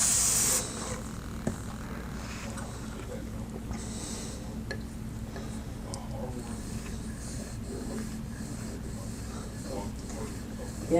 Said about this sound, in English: if you spray it with alcohol,